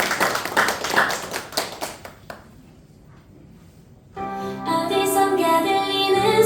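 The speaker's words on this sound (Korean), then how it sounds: "우리 다시 한번 박수 부탁드리겠습니다." A church congregation at a Christmas service claps in a burst of sharp, uneven applause that tapers off into near silence, followed by the start of music.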